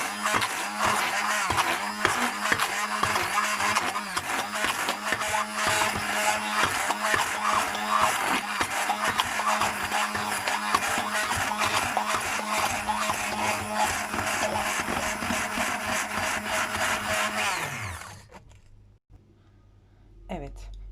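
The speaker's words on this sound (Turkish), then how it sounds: "Blenderimizden geçiyoruz arkadaşlar." A blender runs steadily, mixing spinach puree with sugar for a cake, a loud continuous whirring buzz that stops abruptly near the end and leaves near-silence.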